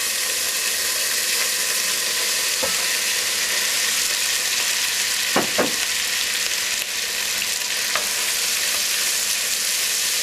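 Kidney beans sizzling in hot bacon fat, a dense steady frying hiss with a few brief scraping stirs, close and loud with no voices.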